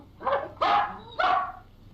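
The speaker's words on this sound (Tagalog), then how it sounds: "Aso ko nga pala." A dog barks three times in close succession, loud and near, each bark short and sharp with brief gaps between.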